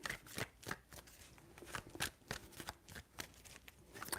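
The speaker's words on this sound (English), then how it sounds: "3 shuffles." Tarot cards shuffled by hand in three bursts, a crisp riffling and slapping close to the mic with short pauses in between, and no talk.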